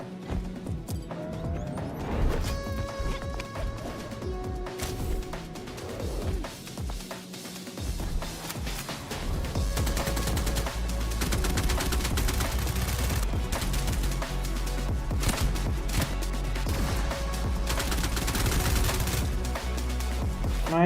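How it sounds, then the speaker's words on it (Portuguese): Rapid gunfire bursts and crashes from a multiplayer shooter video game, dense and continuous over a steady game soundtrack, with overlapping shots and impacts throughout and no talking. "Mais um jogo multiplayer de tiro."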